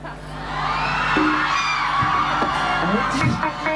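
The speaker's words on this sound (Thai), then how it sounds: "ถ้าสนุกก็ปรบมือดังๆเซ" A lively crowd whoops and shouts with loud, sustained cheering that fills the whole stretch; clapping is hard to pick out beneath the voices.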